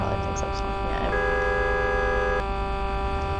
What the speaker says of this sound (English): Especially if the ambulance is honking at you like that.